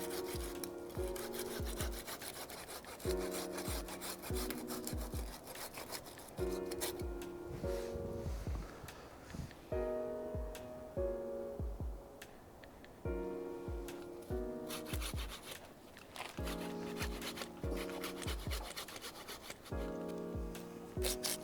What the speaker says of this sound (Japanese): 鉢植えの前にこの太根を切ることになります